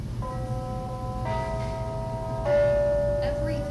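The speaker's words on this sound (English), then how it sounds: "the First Christian Church's bells fill downtown Eugene" Church bells of First Christian Church in downtown Eugene, a few sustained ringing tones entering one after another and lingering, heard over a low background rumble.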